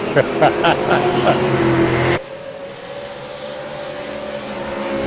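V8 Supercar race cars at the Round 7 Montreal event, engines roaring loudly for about two seconds with a voice over them, then cutting abruptly to a quieter, steady distant engine drone.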